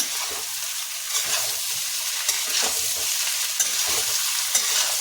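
Chicken and salt are stirred in a hot frying pan, giving a continuous soft sizzle with scraping spoon strokes coming through at a few irregular moments, close and moderately quiet.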